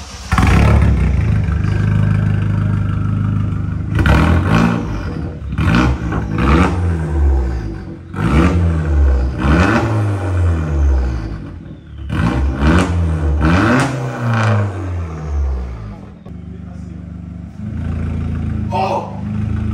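An Opel Corsa D OPC with a full exhaust roars through a series of loud, aggressive revs with a deep exhaust growl, rising and dropping repeatedly, close by.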